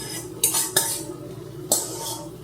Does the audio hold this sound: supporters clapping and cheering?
no